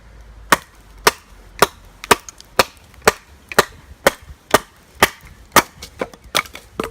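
A Tops Anaconda knife strikes dry, hard oak seasoned for about a year and a half, giving a dozen sharp, woody chops at a steady rhythm, each crack loud and close with no talking.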